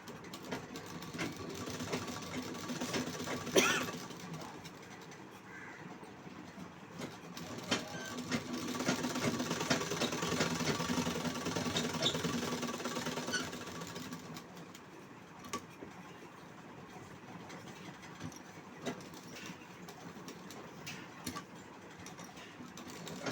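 Sewing machine running a straight stitch along a folded blouse hem, a steady low mechanical whir with faint ticking that swells in the middle and eases off, fairly quiet throughout.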